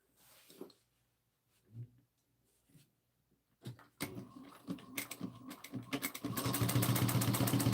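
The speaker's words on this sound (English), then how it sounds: "Back stitching again at the zipper" A sewing machine back stitches along the zipper of a small fabric trinket pouch, a dense rapid mechanical whirring that starts loud after a few quiet taps and handling sounds and builds steadily to the end.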